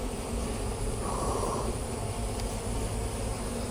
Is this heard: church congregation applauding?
no